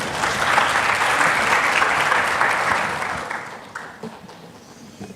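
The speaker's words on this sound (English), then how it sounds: "Can we have a huge round of applause, everyone?" An audience at a corporate HR summit in Mumbai applauds, a dense roomful of clapping that stays loud for about three seconds and then thins out and fades.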